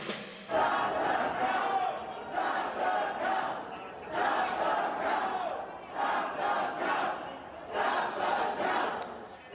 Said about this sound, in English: Those chants of stop the vote from a crowd of Trump supporters in Michigan on Wednesday.